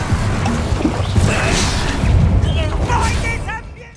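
Incendio fire spell cast in combat in Hogwarts Legacy, a loud whooshing fiery burst with booming impacts over dense battle noise, with game voices speaking through it.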